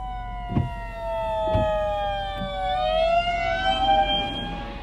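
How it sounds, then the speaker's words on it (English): Ambulance siren wailing as it passes on a highway during severe storm weather in Illinois: rising and falling sweeps, fairly close, with a few dull thumps and road noise underneath and no talk. "Got an ambulance coming."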